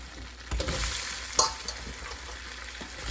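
Quartered mango pieces fry with spices in hot oil, giving a steady hiss with a few stirring knocks and one sharp clink, and no voices.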